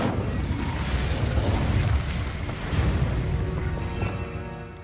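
An Incendio fire spell cast in Hogwarts Legacy erupts as a loud, rushing roar of flame that holds for several seconds, then gradually thins out.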